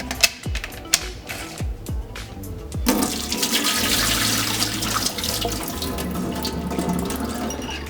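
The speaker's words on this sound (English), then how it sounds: "All you have to do is just the rinse, stir, and drain." Water rinses sprouting beans in a glass jar: a few light clicks and taps first, then a steady rushing stream of running water that fills the rest, close by and with no voices.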